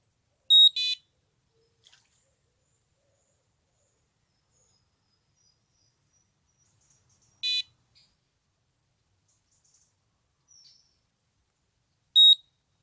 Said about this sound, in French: Ça bip, ça bip, ça bip, ça bip.